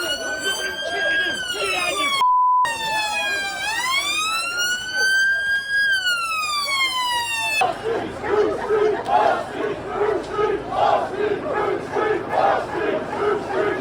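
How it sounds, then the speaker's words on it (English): A loud police siren wails at a protest with mounted police, sweeping up and down in pitch, then gives way to a noisy crowd of shouting voices. "loud siren"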